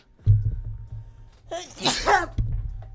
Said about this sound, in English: I'm sneezing, so that means it's time for me to go